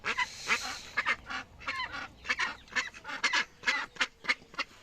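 Muscovy ducks giving a series of hoarse, breathy honking calls, overlapping and close by, with short pauses between bursts.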